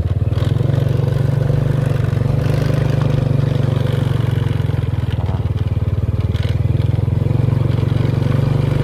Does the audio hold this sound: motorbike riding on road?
yes